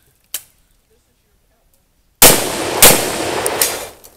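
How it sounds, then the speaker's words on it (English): Shotgun blasts at a cowboy action shooting match, with one sharp faint report followed after a pause by a loud close blast and several quick following shots with echoing tails. "Shotgun."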